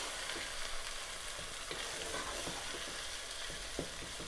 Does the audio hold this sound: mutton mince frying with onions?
yes